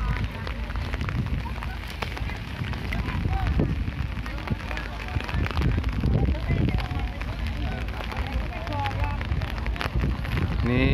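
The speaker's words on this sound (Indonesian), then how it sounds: "Nah ini hujan, tapi belum lebat." Light rain falls steadily outdoors near a gathering before a religious talk, a dense continuous hiss of drops on surfaces with crowd murmur and voices mixed underneath, close and even throughout.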